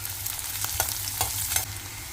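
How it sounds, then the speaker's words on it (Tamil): Small onions sautéing in a pan, a close, steady sizzle broken by a few quick stirring scrapes of a utensil. "இப்போது இந்த வெங்காயம் வதங்குறதுக்காக கொஞ்சமாக உப்பு சேர்த்துட்டு இதை நல்லா வதக்கிக்கலாம்"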